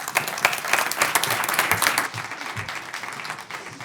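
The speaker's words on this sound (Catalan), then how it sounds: "Fort aplaudiment també per ell." Applause from the audience at an institutional opening session of a cooperation gathering, a strong burst of clapping that gradually thins out toward the end.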